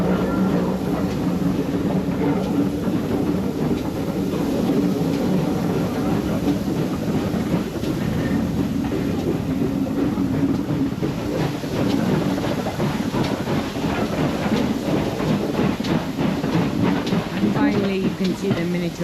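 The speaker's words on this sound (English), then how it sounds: "Here you can see a HST as well as a DMU as the locomotives make the climb out of Cleveland Carrig." An HST and a DMU climb the line out of Cleveland Carrig at the Gwili Railway 60-year gala, a continuous heavy engine rumble and rolling roar holding steady throughout at a fair distance.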